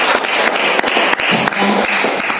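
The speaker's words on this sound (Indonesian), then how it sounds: "Tepuk tangan buat Bapak Ibu." An audience at a business seminar claps in a dense, steady burst of applause, loud and close, with a few brief dips but no pause for the whole stretch.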